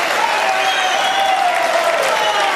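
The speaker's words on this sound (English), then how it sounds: "And there's the roar from the crowd." A large snooker final crowd roars and applauds loudly and continuously, a dense, sustained wash of clapping and cheering with no break.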